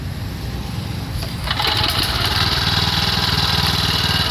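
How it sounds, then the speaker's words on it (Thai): A Mitsubishi 6.3 hp petrol walk-behind tiller (MMR68) engine runs steadily up close, a rough mid-pitched drone that steps up and gets louder partway through, then holds a constant throttle with no talk over it. "เดี๋ยวมาฟังเสียงเครื่องยนต์กันดู"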